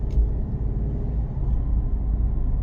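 A 2024 Chevrolet Silverado 1500 LT pickup truck climbs a hill, heard from inside the cab as a low, steady engine and road rumble at moderate level, with no talking.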